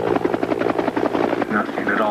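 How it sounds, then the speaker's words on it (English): Helicopter flying overhead, its steady rotor chop loud and continuous throughout, with broadband engine noise filling the whole stretch. "The chopper's back. The helicopter can't be a coincidence."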